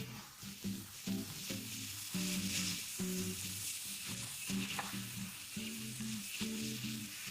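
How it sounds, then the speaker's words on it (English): Maitake mushrooms and torn pieces of tofu fry in a pan, giving a continuous close sizzle with crackling and occasional stirring scrapes, and no voices over it. "Once the Maitake mushrooms have softened, add the tofu."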